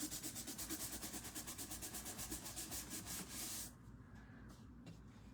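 Sandpaper rubbed back and forth across embossed paper to lift off a top layer of color, a steady rhythmic scratchy rasp of close, quick strokes that stops partway, leaving quieter light scuffs.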